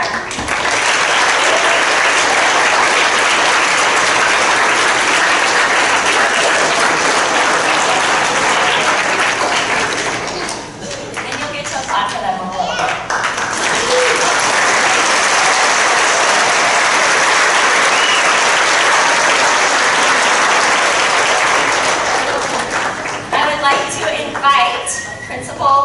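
Loud, sustained audience applause fills a school's 8th grade continuation ceremony, dipping briefly midway before swelling again and continuing to the end, with some voices mixed into the clapping.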